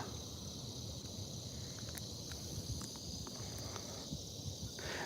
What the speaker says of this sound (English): I hear the cicadas now too